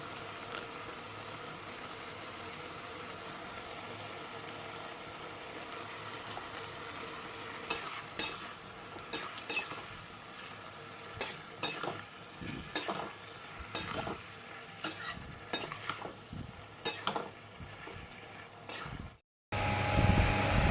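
Cucumber curry with salt, turmeric and cumin is stirred in a pan, a low sizzle broken by a series of distinct spoon scrapes and clinks against the metal in the second half.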